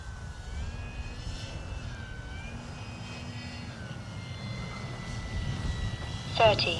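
An Arrows Bigfoot RC airplane flies at full speed, its electric motor whining with a rising and falling pitch at a moderate distance over wind noise, with a brief louder rush near the end.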